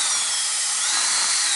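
A drill grinds steadily and loudly on a rivet inside a Lutron Skylark dimmer, a continuous close whine with no talking.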